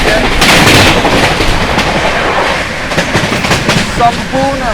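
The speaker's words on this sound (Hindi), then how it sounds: "क्या मारा 130 की रफ्तार में overtake Danapur SMVT Bengaluru special को" A Sampoorna Kranti Express train overtakes a Danapur–SMVT Bengaluru special at about 130 km/h: loud, continuous rushing rail roar with rapid rhythmic wheel clatter and sharp clacks over the joints, close by throughout.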